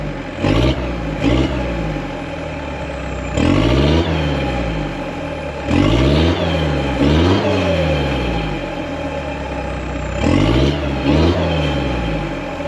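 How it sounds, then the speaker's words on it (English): Mitsubishi Delica turbo diesel with a custom 3-inch exhaust, warmed up and revved hard in repeated bursts, each rising and falling, loud and close with no talk. "It's warmed up, let's throw some revs at it."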